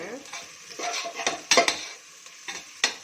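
Ginger garlic paste sautéing with onions in a pan for veg biryani, a light sizzle broken by several sharp spoon scrapes and clinks against the pan in an uneven rhythm.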